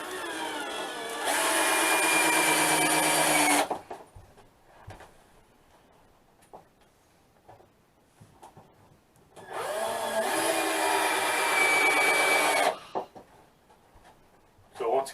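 A power drill drives screws into rough-cut lumber boards inside a cabin build, with two loud whirring bursts of about three seconds each separated by a quieter gap of faint handling noises.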